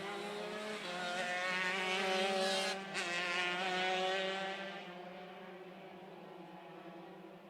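Shifter racing karts scream around the LAKC track in a main race, their high, loud engines whining together as they pass close, then fading slightly into the distance.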